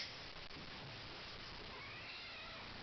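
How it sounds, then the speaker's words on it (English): Cat meowing near an old Arduino house controller, a faint, brief cry against quiet background noise, with no one talking. "Well, that's a cat"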